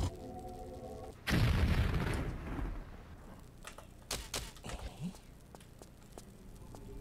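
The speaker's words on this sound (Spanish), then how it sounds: "Explosión, ¿dónde?" A loud explosion in the Tomb Raider video game, fan-made level The Lost Soul of Maria, bursts in as a sudden broad roar and decays over about two seconds, followed by scattered thuds and clatter.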